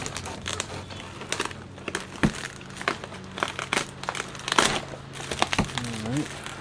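Plastic packing material crinkles and crunches while a Reckless motorcycle fairing is unboxed, giving close, irregular bursts of rustling with sharper crackles and a low background hum.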